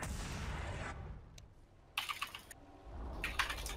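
Bursts of rapid keyboard typing during a Dota 2 game, hard clattering keystrokes in short spurts separated by quieter gaps, close and fairly faint overall.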